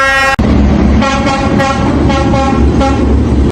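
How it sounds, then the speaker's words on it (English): A train passes along Hanoi's train street, sounding its horn and bell over the loud rumble and clatter of the cars, with repeated horn blasts close by. "They just beep and bell the thing to let you know a train's coming, and it just comes."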